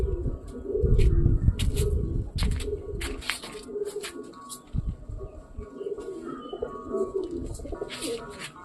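Pigeons coo softly and repeatedly nearby in a pigeon loft, with wing flutters and scattered rustling and knocks around them.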